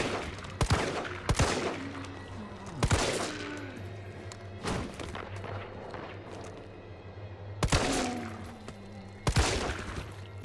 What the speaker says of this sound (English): Here I shoot 2 zombies in this dark alleyway with my very limited bullets and very limited accuracy.